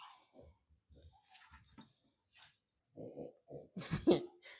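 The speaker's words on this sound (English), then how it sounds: "Now the dog is snorting." A dog snorts in a home kitchen, a series of short, breathy nasal snuffles and puffs, close and quiet at first, then louder and more forceful near the end.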